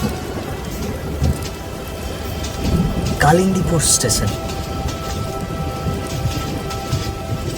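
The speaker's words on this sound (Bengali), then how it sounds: "প্রচণ্ড ঝড় বৃষ্টি বইছে বাইরে।" Heavy storm rain hisses steadily with a low rumble of thunder, while a voice speaks briefly in the middle over the downpour.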